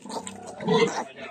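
Close pig grunts from piglets and sow, a few short throaty snorts in quick succession, loud and near with some farmyard noise.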